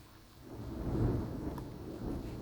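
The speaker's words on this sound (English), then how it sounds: "Can you hear the thunder?" A low, rolling rumble of thunder during heavy rain swells and fades over a couple of seconds, fairly distant and muffled, with a steady wash of background noise.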